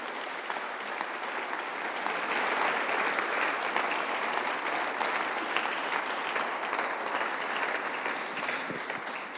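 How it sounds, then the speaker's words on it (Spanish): Sustained applause from a church congregation fills the space, swelling slightly and holding steady for several seconds before tapering off. "Y denle un fuerte aplauso a Dios por eso."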